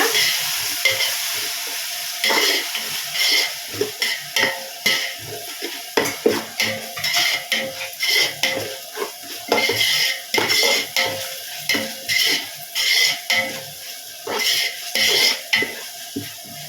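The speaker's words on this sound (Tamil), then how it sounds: "இப்போ நம்ம இஞ்சி பூண்டு போட்டுக்கலாம். கொஞ்சம் பச்சை வாசனை போகிற வரைக்கும் ஃப்ரை பண்ணிக்கலாங்க." Ginger and garlic frying in oil for chicken biryani, a steady close sizzle broken by repeated rhythmic scrapes and clinks of a ladle against the pan, with no voices.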